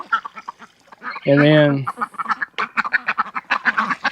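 A black duck on a farm gives one loud, drawn-out quack in the middle, with people talking before and after it.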